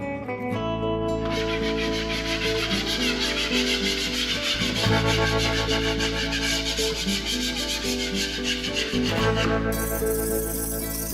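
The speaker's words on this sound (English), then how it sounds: "I went around the entire room with the knife and did the scraping" A knife scrapes dried drywall mud off the walls of a breezeway room, a steady, continuous rasping and rubbing that runs close and loud throughout, with brief pauses in the strokes and a faint background hum.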